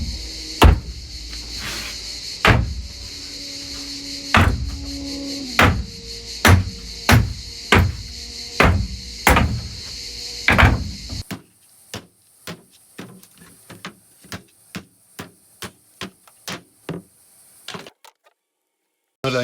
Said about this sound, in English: The way I do it is I just normally put it on its side and hit it with a heavy hammer